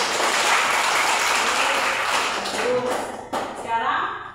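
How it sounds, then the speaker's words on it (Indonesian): A class of students claps together in a classroom, a dense burst of applause that fades out toward the end as the clapping thins. "Tepuk tangan kemana?"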